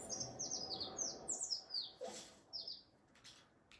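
Birds in the video game Little Kitty Big City chirp in quick, repeated high tweets, one call overlapping the next and then thinning to a few scattered notes, soft against a quiet background.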